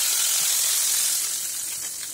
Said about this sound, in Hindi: जीरा और लाल मिर्च जब थोड़ा लाल हो जाए तो हम इसका छौंक खिचड़ी में लगा देंगे।